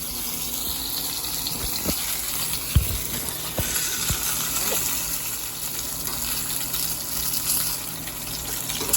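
Steady crackling sizzle of Cajun oxtails frying in a pan, a constant hiss with scattered pops and spits.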